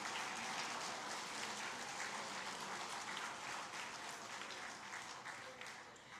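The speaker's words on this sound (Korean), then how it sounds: "박수로 한번 서로 격려하십시다" A church congregation in Daegu claps for one another during a Sunday service, a steady, distant wash of applause that holds evenly and fades slightly at the end.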